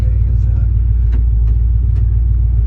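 A 1968 Ford F100 classic pickup truck rumbles on a test drive, a steady, loud low engine drone heard from inside the cab with a few faint clicks over it.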